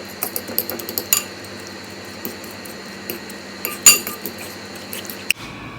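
A utensil stirs salmon cake ingredients with chopped peppers in a bowl, making light clinks and scrapes at an uneven pace, close and fairly quiet, with one louder knock near the end.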